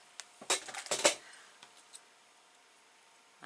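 Scissors cut paper for a handmade card, giving a quick cluster of crisp close snips and rustles, followed by a few faint isolated clicks and then near silence.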